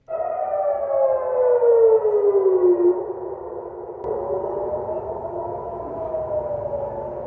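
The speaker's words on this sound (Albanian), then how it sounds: "Sirenat e alarmit u dëgjuan në Jeruzalem në orët e para të së premtes" Air raid warning sirens wail across Jerusalem in the early morning, a loud rising-and-falling electronic tone that sweeps down, pauses briefly, then rises again and holds, alone with no voices.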